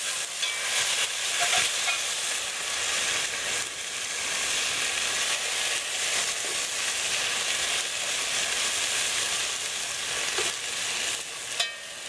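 Floured beef browns in hot oil, crackling and sizzling steadily and loudly, up close, with occasional stirring scrapes and no voices.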